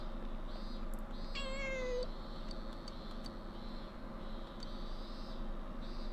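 A cat meows in a video game, one clear rising meow over a steady bed of game music and ambience, with no talking.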